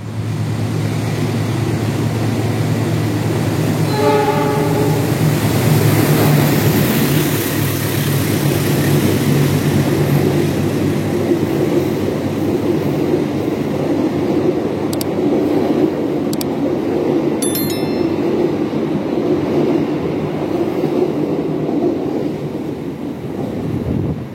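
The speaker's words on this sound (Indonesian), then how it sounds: "Kereta api Jayakarta sudah berangkat dari stasiun Lempuyangan" The Jayakarta economy passenger train rumbles and rolls along steadily after departing Lempuyangan station, with wind-like noise, a brief tonal horn-like sound early on, and faint clanks later; no talking.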